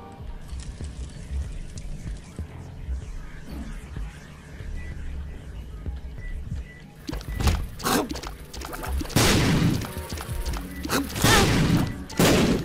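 Explosions and bomb blasts from The Binding of Isaac: Rebirth, a run of loud thuds and booms over steady background game music, with the bursts bunching up in the second half.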